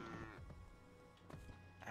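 A cow in the Craftopia video game lets out a short low moo, faint and brief, against a soft game background with no talking.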